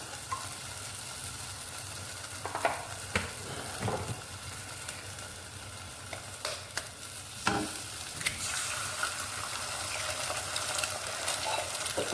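Eggs frying in a little oil for egg Maggi, a continuous sizzle with a few sharp clinks and scrapes of a utensil stirring in the pan, no voices.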